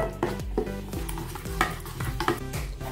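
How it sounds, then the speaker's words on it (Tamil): A spoon stirs watery bread idli batter in a bowl, a quick repeating rhythm of scraping clinks and wet sloshes, close and steady with no speech. "ஊற்றிட்டு நல்லா கலக்கி விட்டுக்கோங்க"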